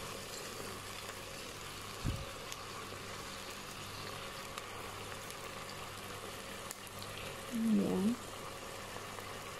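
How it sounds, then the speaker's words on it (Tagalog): Creamy chicken and spinach pasta sauce simmers in a pan with a soft, steady bubbling hiss, faint and continuous beneath someone speaking nearby. "pakuluan lang siya hanggat magkulo siya"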